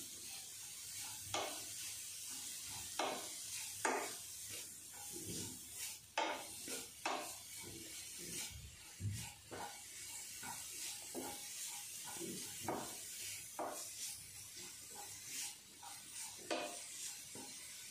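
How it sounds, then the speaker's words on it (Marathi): Beetroot halwa stirred in ghee in a pan: a steady soft sizzle and hiss broken by repeated scraping stirs at an uneven rhythm throughout, fairly quiet and close, with no voices. "पूर्णपणे मिक्स करून घ्यायचं आहे बिटाचा हलवा तुपामध्ये"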